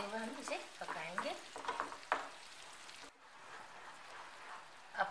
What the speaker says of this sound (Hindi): इसी तरीके से चलाते हुए हम इसे पकाएंगे।